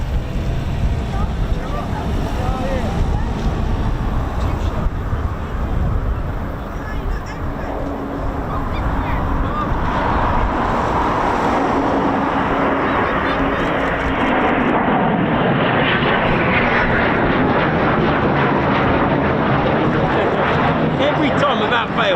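Two Eurofighter Typhoon FGR4 jets pass by a RAF station, a loud, broad roar that swells and shifts in pitch as they go over, with a voice talking over it.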